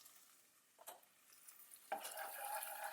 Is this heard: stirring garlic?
yes